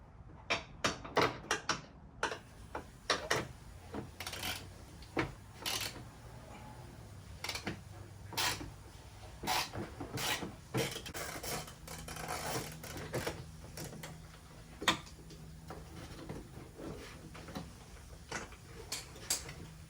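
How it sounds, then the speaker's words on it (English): Sharp ratcheting ticks from a socket wrench with an extension and 10 mm socket backing a nut off an Audi B7/B6 front bumper cover, in quick irregular bursts of clicks with short pauses, close and clear. "grab one of the extensions and use a 10 millimeter, get it out"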